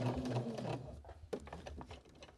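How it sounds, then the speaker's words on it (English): Sewing machine running a straight stitch around the outer edge of an upcycled shirt, a close, rapid rhythmic chatter in short bursts that slows and pauses, with no talking. "So I'm starting here with my needle down, and we're just going to stitch around the outside edge."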